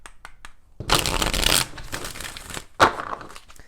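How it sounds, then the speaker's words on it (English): A bridge-style riffle of a tarot deck whirs for about a second, followed by quieter sliding and a sharp tap as the deck is squared. "let's go ahead and do 4 shuffles"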